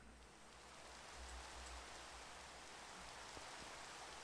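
Steady Minecraft rain hisses as an even, continuous wash of falling drops, moderately loud and unbroken, with no talk.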